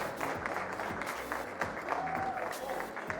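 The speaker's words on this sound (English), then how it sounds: "Again, a massive round of applause." Applause from an audience at the close of the DreamHack Mechabellum 2v2 showcase esports tournament, a moderate, steady patter of clapping with scattered louder claps and some voices mixed underneath.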